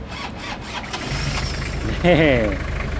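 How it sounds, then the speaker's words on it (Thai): Engine of a 1990 Toyota Hilux Mighty pickup turning over and catching, followed by a short rising rev as the idle picks up, with a steady low rumble throughout. "ติดเครื่องให้เบิ้งครับประเดี๋ยว"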